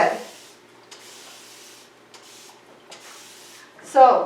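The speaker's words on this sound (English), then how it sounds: "the good thing about this mister, there's lots in it and it sprays really good" Several short hissing bursts from a hand spray mister misting orchids in a dry indoor room, evenly spaced and fairly quiet, with a louder rustle near the end.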